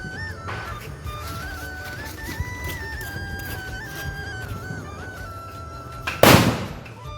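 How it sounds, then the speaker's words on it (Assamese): A rhino firecracker bomb set off for Diwali at dusk gives one sharp, loud blast near the end, standing out above steady outdoor background noise. "ধুবই এটা ৰাইন' বোমা মাৰি গধূলিৰ আৰম্ভণিটো কৰি দিলে"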